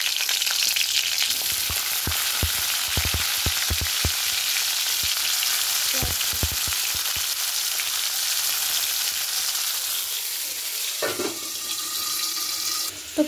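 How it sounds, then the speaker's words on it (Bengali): Green chillies and cumin frying in hot oil produce a loud, steady sizzle with bursts of quick spatter and stirring clicks, easing briefly before a louder crackling surge near the end. "তেলে ছেড়ে দেবো কাঁচা লঙ্কা"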